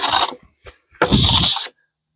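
Two rasping hand-plane strokes across a black oak slab, taking very light shavings to clear saw marks: a short swipe, a faint pause, then a longer, louder pass, close and with no talk.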